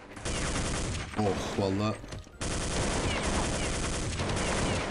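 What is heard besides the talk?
gunfire from the video game Counter-Strike 1.6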